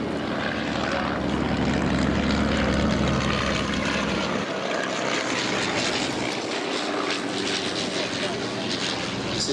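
A vintage triplane performs tight display turns over an airshow flight line, its propeller engine droning loud and steady throughout, with a voice talking over the engine noise.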